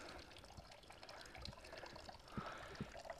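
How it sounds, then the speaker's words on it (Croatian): A forest spring below the Sljeme summit on Medvednica, where water trickles in a faint, continuous wash with a few soft splashes, set against quiet outdoor ambience. "Nakon ovih kuća ili vikendica nailazimo na izvor vode."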